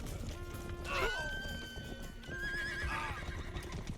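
A horse in the medieval game Rustler gives a loud whinny with rising and falling tones while hooves clip-clop steadily underneath, then a second whinny follows, all fairly close.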